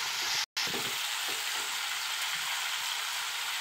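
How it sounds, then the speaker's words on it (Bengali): Chicken frying in mustard paste, stirred in a pan: a steady close, loud sizzle with scraping stir strokes running throughout, briefly broken once near the start, and no voices. "আর একটু নাড়াচাড়া করব, করে জল দিয়ে ঢাকা দেব।"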